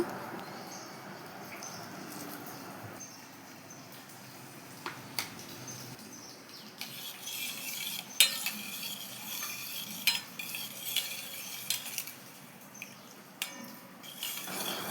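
A spoon stirs ground pepper and cardamom powder into a junnu mixture, giving faint, soft scraping and clinking against the bowl, with irregular taps growing busier in the second half. No voices.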